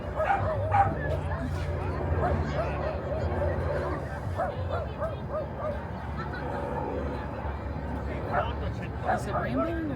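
Several dogs bark, yip and whimper at a seaside park in Odaiba, Tokyo, close to the listener, with scattered barks recurring through a steady crowd babble of people talking nearby.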